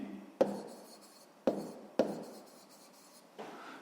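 A pen writes on paper during a math exercise, with three or four short scratchy strokes separated by quiet pauses, close and faint.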